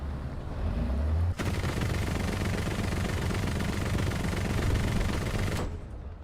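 Sustained rapid gunfire in a War Thunder air battle, a dense, loud burst of automatic shots lasting several seconds aimed at an aircraft, starting abruptly and cutting off just as suddenly.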